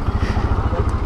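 A motorcycle idles at a crowded petrol pump in India, its engine making a steady, loud, low throbbing pulse close by for about a second, with no talk over it.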